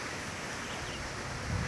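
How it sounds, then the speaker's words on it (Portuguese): Strong wind roars through eucalyptus trees in Araçais, a forest village, as a steady, loud rushing with some buffeting gusts against the microphone. "Vocês têm ideia da intensidade do vento como tá."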